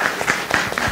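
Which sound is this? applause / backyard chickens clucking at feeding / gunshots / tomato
applause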